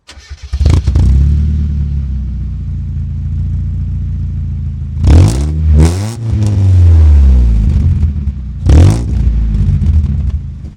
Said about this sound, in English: that'll give you guys a chance to hear this awesome exhaust.